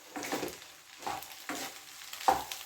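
Fried rice stir-fried in a pan, street-food style, gives a series of rhythmic scraping, sizzling strokes about every half second, close and clear with no talking.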